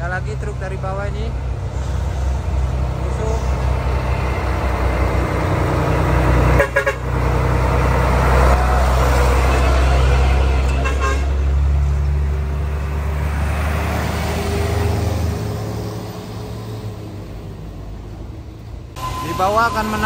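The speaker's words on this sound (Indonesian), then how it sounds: "Ada lagi truk dari bawah ini." A heavy truck labours up a steep hill road, its deep engine drone loud and close throughout, with a short horn toot and other traffic passing.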